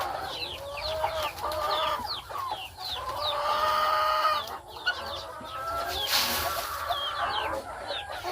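Rooster and hens cluck and call busily around scattered feed, with repeated nearby clucks and chirpy calls overlapping throughout and a brief louder burst of noise toward the end.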